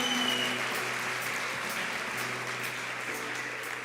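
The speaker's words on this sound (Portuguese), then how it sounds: "dá um aplauso bem forte ao Senhor" Church congregation applauding loudly at a special children's day service, a dense, steady wash of clapping that continues throughout and slowly fades slightly toward the end.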